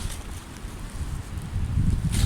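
Strong wind blowing along a seashore, a continuous low buffeting roar that rumbles against the microphone and swells louder toward the end, with no talking.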